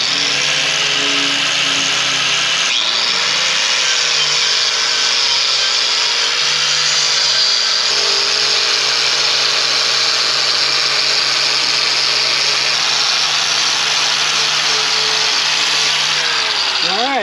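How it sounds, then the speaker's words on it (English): A power tool grinds the edges of steel railing bars on a cruise ship restoration, a loud steady abrasive whine with shifting pitch that runs unbroken for the whole span, no talk over it. "So today we're just grinding off these edges to make them really smooth so that they're able to weld on to the rest of the railing really well."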